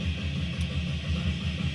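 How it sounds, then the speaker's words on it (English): Drum breakdown from an album, rapid pounding kick drums in a tight repeating pattern under a dense, harsh wall of distorted noise, moderately loud and continuous, with no talking. "Listen to this drum breakdown though."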